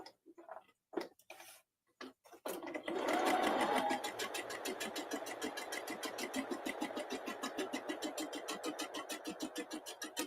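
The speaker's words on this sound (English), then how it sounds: "he's sewing on my necky. I can't believe I'm letting him use my newer machine" A home sewing machine runs steadily for a long stretch, a fast even mechanical stitching rattle, close and loud, after a few brief knocks and handling sounds at the start.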